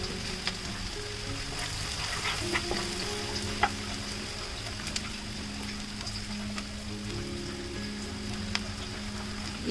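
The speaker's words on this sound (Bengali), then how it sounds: "পেঁয়াজটা একটু ভাজা ভাজা হয়ে যাক" Chopped onions frying with whole spices in oil for a tawa chicken dish, a steady close sizzle with light crackles and occasional spoon scrapes throughout.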